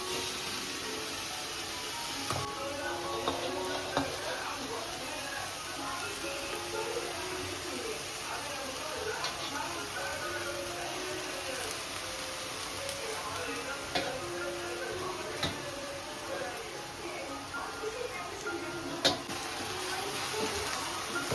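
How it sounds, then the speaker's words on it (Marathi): Wild ikra leaf greens stir-fry in a kadhai, a steady close sizzle with soft scraping and stirring clicks of a spatula running continuously, a voice occasionally speaking over it. "आता परतून घ्यायची मस्त."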